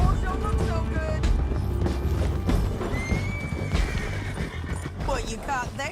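A horse in Red Dead Redemption 2 whinnies loudly over clip-clopping hooves, with several rising neighs toward the end amid busy game sounds and shouting voices.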